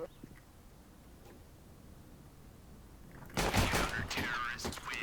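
Gunfire in the video game Counter-Strike: Global Offensive: a quiet stretch, then a loud rapid burst of shots with further volleys following close up.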